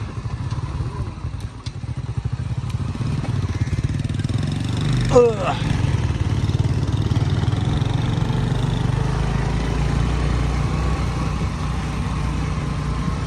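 Motorcycles carrying two or three riders along narrow village paths, a steady low engine drone close by with a brief clatter midway and people talking over it.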